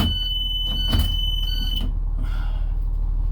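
An emergency exit door alarm sounds a steady, loud high-pitched electronic tone for nearly two seconds, then cuts off, leaving low background hum.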